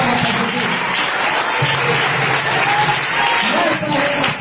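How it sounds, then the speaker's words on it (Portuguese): Clapping for Jesus by a church congregation, a steady dense wash of many hands filling the space, with a voice speaking over it and faint tonal sounds. "Pode bater as palmas para Jesus."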